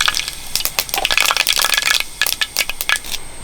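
Mustard seeds spluttering and popping in two spoons of hot coconut oil in a pan, a dense, irregular crackle of sharp pops, close and fairly loud, with no talking.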